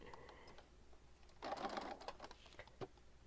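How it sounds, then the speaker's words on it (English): A sewing machine stitching around the edges of a mixed media folio runs in a brief, quiet burst of rapid mechanical whirring, followed by a faint isolated clack, with low room noise otherwise. "Okay, now I'm going to go around the edges and stitch it."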